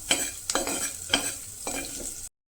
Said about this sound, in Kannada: ಆನಿಯನ್ ಆಲ್ಮೋಸ್ಟ್ ರೋಸ್ಟ್ ಆಗಬೇಕು, ಅಲ್ಲಿವರೆಗೂ ಚೆನ್ನಾಗಿ ಫ್ರೈ ಮಾಡ್ಕೋಬೇಕು